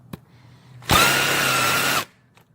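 A power tool drives out the factory intake manifold bolts on a Hemi engine in one steady, loud burst of a bit over a second, with a faint knock before it and quiet afterward.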